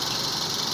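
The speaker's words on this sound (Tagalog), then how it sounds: "Nawala ng ingay yung makina niya." A repaired second-generation Toyota Vios engine idles steadily, a close, continuous mechanical hum with no talking.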